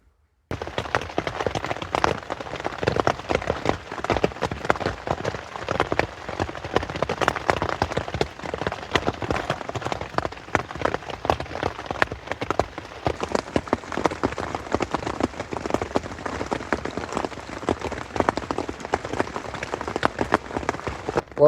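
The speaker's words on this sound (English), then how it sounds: "I'm sure you can hear the rain out there this morning. It has been hammering it down all night" Heavy rain pours down outside in the morning after a night of downpour, a dense continuous patter of drops hitting surfaces. It stays loud and even throughout, with no voices.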